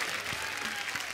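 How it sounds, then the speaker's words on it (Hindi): Wedding guests applauding on a comedy television show, a brief dense burst of crowd clapping heard at moderate volume, with faint voices mixed in. "जोरदार तालियां सब बारातियों के लिए"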